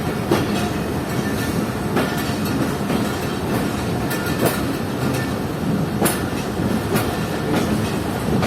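Loud, close rumble of a rail locomotive shunting slowly, with rhythmic wheel clacks and metallic clanks over a continuous low drone.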